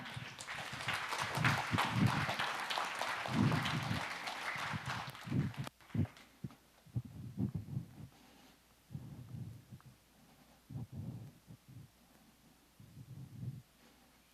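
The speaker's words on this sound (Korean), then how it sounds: "여러분 큰 박수로 맞아주시기 바랍니다" Audience applause welcoming a company CEO to the stage at a Korean tech presentation, a dense clapping crowd for about six seconds that cuts off, then scattered footsteps or thumps.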